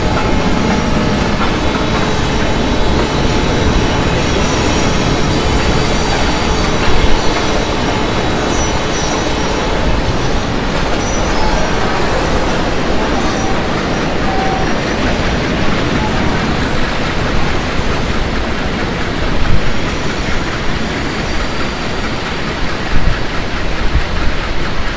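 Jhelum Express train departing a station in the MSTS Open Rails simulator, giving a steady loud rumble of rolling wagons with faint rhythmic clickety-clack over the whole stretch and a voice talking over it.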